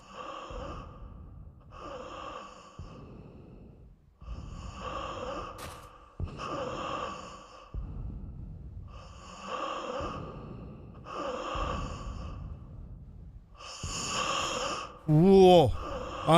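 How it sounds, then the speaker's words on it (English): A woman breathing in the horror game The Guest: slow, heavy, rhythmic breaths repeating about every one and a half seconds, fairly close, ending with a brief sharp gasp. "Did you hear her breathing?"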